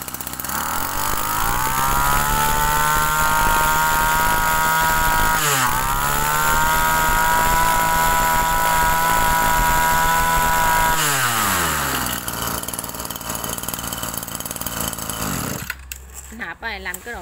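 A used Japanese chainsaw runs loudly at a steady high pitch, dipping briefly twice before winding down and cutting out near the end; voices can be heard faintly underneath.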